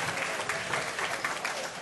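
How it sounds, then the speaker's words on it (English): An audience applauds at a town award ceremony in Irvington: dense, sustained clapping from a full room, loud and unbroken with no voices over it. "We need to really give him a round of applause"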